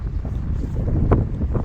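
Strong gusty wind sweeps across the hillside entrance to Dyrham Park, a loud low roar buffeting the microphone with rising and falling rumbles and a sharper gust near the end.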